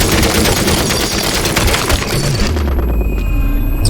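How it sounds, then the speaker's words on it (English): Loud, continuous bursts of rapid gunfire mixed with crumbling debris and impacts, dense and close throughout. "the running up, gunfire plus rock debris and stuff."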